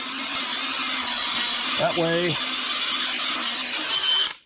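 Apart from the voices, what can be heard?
power drill drilling wood board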